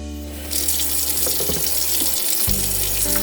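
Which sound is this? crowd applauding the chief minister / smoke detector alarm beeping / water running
water running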